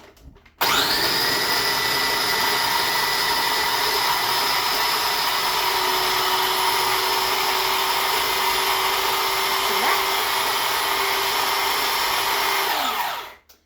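A countertop blender whirs at high speed while blending hummus, a loud, steady motor roar that starts abruptly, holds constant for about thirteen seconds, then winds down at the end.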